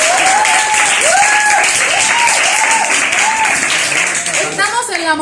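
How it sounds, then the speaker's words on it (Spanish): Applause rings out at the wedding of Juanvi and Gabo at La Montiel restaurant in Ruzafa, Valencia: steady, dense clapping from a gathered group, loud and sustained, with voices and whoops rising over it toward the end. "Un aplauso para ellos"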